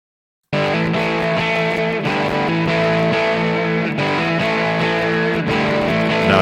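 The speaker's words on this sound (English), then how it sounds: "So if I just solo that track and the reverb, you can hear what it sounds like." Sustained distorted electric guitar drenched in long reverb with roughly a four-second decay, chords ringing densely and continuously at steady loudness after a brief silent start.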